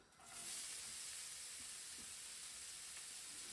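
Shallots and carrots sizzle in a cooking pot with rabbit thighs, a steady close, bright frying hiss that starts abruptly and holds evenly throughout, with faint stirring clicks underneath.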